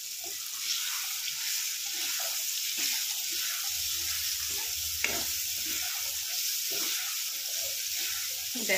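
Poppy seed paste sizzles in a hot frying pan, a continuous bright crackling hiss with soft scraping stirs, close and steady, no voices.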